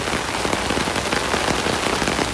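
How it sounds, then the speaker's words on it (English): Steady rain pours at Royal Phuket Marina in Thailand, heard up close under an umbrella as a dense, even hiss of drops spattering on surfaces, with no voices. "this is type of already what I call romantic rain"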